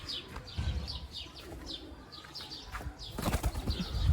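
A young Rostov pigeon flaps its wings in flight, a quick run of close, fluttering wingbeats with a few faint chirps and coos nearby, building toward a louder burst of flapping near the end.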